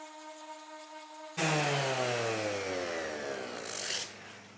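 A sanding machine smooths the edge of an epoxy resin tabletop. It starts abruptly after near silence with a loud, close, abrasive whir that slowly drops in pitch as it spins down, then ends with a brief scraping burst.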